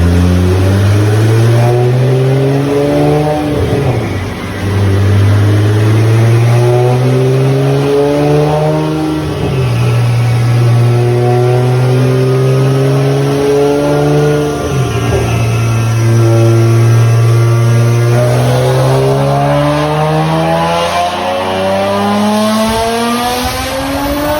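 A Nissan GT-R on a dyno revs hard and loud in three long pulls, each engine sweep climbing steadily, then dropping before the next run.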